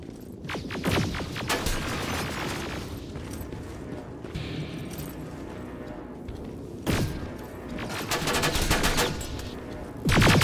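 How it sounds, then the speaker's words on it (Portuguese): Combat in the video game Terminator Resistance: bursts of rapid gunfire cracking in several volleys, with a grenade blast and a heavy boom near the end, set over a continuous mechanical background rumble. "Ele jogou granada."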